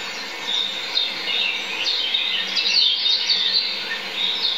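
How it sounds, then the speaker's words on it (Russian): Small bird chirping steadily in quick high tweets, resembling Morse code, fairly faint, with insects buzzing softly in the background. "Тут вот утихла какая-то птичка, такие звуки извлекала, как будто морзянка была."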